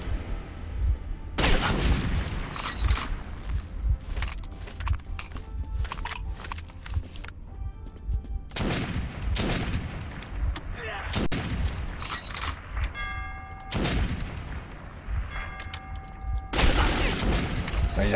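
Bursts of heavy gunfire in a Metro 2033 shootout, loud repeated volleys of shots coming in several clusters with dense, sustained rattling between them.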